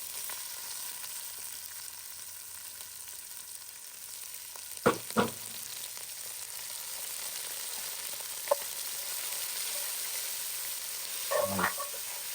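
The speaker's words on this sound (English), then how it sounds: "now I'm gonna drop our onions in and pimentos" Chopped onions and pimento peppers fry in oil with methi in a pot, a faint steady sizzle broken by a few louder clatters of stirring.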